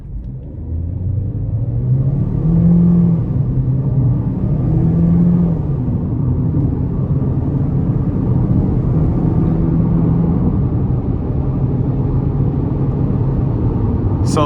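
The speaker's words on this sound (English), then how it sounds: "let's give it some throttle here." A 2026 Chevy Equinox LT AWD pulls away under moderate throttle, a steady low engine and road rumble that rises in pitch through the gears and stays loud and close from start to finish.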